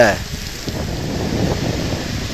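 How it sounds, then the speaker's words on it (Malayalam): A dense, steady wash of heavy rain noise beside a river with a strong current, at a bridge construction site, continuous and fairly loud, with a short burst of a voice at the very start. "മഴയാണ് ഇപ്പോൾ ഉള്ളത്"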